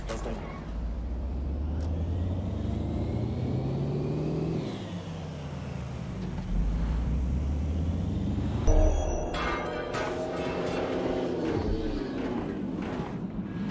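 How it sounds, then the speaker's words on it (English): Vehicle engines in the game Watch Dogs Legion: a continuous engine drone with rising and falling revs, a brief sharp hiss near the middle, then heavier rumbling traffic, loud and close. "I'm detecting a vehicle nearby"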